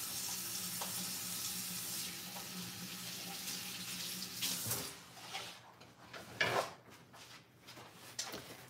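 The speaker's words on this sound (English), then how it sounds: "let me wash my hands really quick." Tap water runs steadily into a kitchen sink as hands are washed, a broad even hiss that lasts several seconds and then breaks into splashes, clatter and handling noises near the end, with no talking.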